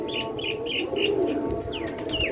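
Pigeons in a large netted cage coo and murmur after heavy rain, with repeated chirps from other small birds nearby.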